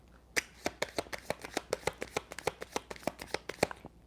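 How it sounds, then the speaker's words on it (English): Oracle deck shuffled close up in a quick, even rhythm: around eighteen crisp card slaps and snaps, one after another, each a sharp papery click with brief gaps, no talking. "I'll continue shuffling just because I want to go through the deck once at least"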